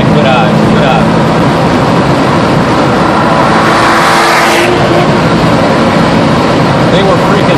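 A Mercedes AMG C55 accelerates hard around the Summit Point track, its engine roaring loudly and continuously from inside the car under heavy wind noise, while a person talks over it.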